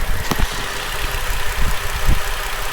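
A Holden VZ Commodore Police Pack idles steadily and close, with a faint ticking in its rumble and occasional soft knocks, and no one speaking.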